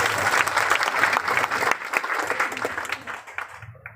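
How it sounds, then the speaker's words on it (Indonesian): Audience applause at a Manokwari regency ceremony marking the 9 December 2020 election of the Regent and Vice Regent, a steady crowd clapping that fades out toward the end. "Mari kita beri aplaus dulu untuk kita."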